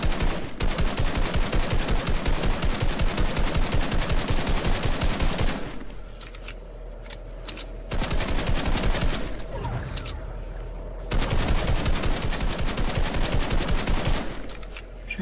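Rapid automatic gunfire in a Fortnite Creative boxfight: long, loud bursts of rattling shots, broken by short lulls of scraping and movement, then another sustained volley near the end, close and dense with no talking.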